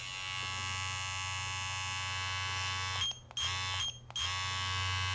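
A steady electric buzzing hum from a single-speed Kemei KM-i32 hair trimmer running close by, briefly cutting out twice before resuming, with no talking.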